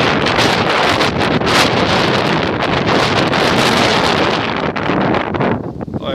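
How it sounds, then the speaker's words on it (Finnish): Light wind blowing outdoors among trees, rushing across the microphone as a loud, continuous broadband roar with small gusty swells and a slight easing near the end, no talking. "Pientä semmoista tuulen tynkää."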